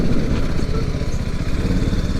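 The engine of a BMW 310GS motorcycle runs close by with a rapid, steady thumping beat, loud and constant throughout.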